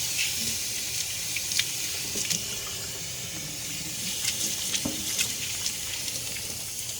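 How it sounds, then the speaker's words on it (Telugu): Tap water running while hands are washed at a sink, a soft continuous splashing hiss with small irregular splashes, close and fairly quiet, with no talking. "Let me wash my hands."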